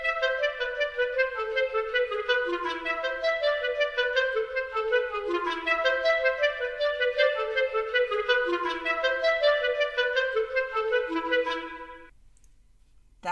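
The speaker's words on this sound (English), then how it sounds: "That was the sound of the clarinet." Solo clarinet plays a flowing melodic phrase of many quick, connected notes, clear and close, ending with a short silence and no accompaniment or voice.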